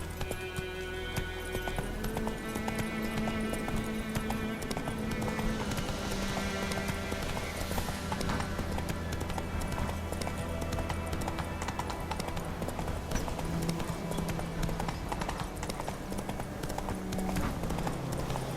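Roach, the horse in The Witcher 3, gallops with a steady, driving clip-clop of hooves that holds close and loud throughout, laid over a continuous bed of game music with sustained tones.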